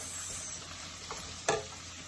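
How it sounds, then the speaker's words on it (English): Vegetables sweat with mushrooms in a pot, giving a faint, steady sizzle, broken near the middle by a short scrape of stirring. "I'm also gonna sweat it together with the mushrooms"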